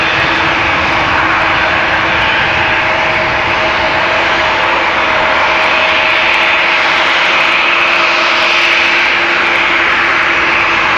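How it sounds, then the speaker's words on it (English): An Airbus A330 powered by CF6 engines, bound for Mumbai from Amsterdam Schiphol, roars loudly and steadily with a clear tonal whine riding on the broadband rumble, sustained throughout with no speech. "A330 with CF6s that you can probably hear already"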